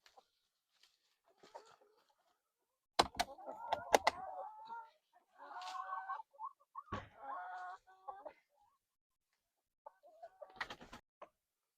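Chickens cluck and coo softly inside a coop in several short bursts, with thumps and knocks from the wooden enclosure and quiet stretches between.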